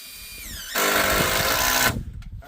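Power drill driving screws into a pole barn frame, one sustained whining run of about a second, loud and close, then stopping with a few faint knocks after.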